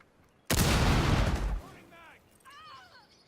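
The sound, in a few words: gunfire in Rainbow Six Siege video game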